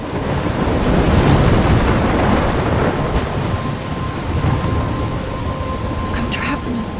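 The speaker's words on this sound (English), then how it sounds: "I'm trapped in a storm?" Heavy rain pours and thunder rumbles in a storm in the video game Life Is Strange, with loud rolling swells near the start and middle over a constant wash of rain.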